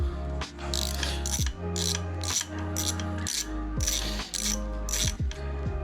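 Ratchet wrench working a 10 mm bolt on a Honda CB599 Hornet 600 motorcycle, close rapid clicking in several bursts with short pauses between strokes.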